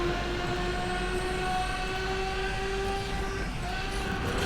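Trains roar past in an Asphalt 8 racing game, a steady loud rail rumble with a sustained horn-like tone running throughout the race.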